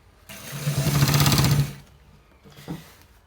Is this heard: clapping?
no